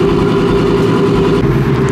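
A modified 2024 Mustang GT with an aftermarket exhaust runs loud and close, its deep, even engine drone and exhaust burble holding steady throughout.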